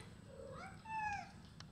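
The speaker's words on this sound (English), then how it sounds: "All that noise and there's only one cat out here." A farm cat meows outdoors, a single drawn-out rising and falling call that stands out over steady low background noise, moderately close.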